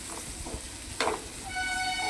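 Eggs fry with chili powder in a pan, with a few soft stirring scrapes, then a burst of sizzle that settles into a steady hiss, close and moderately loud.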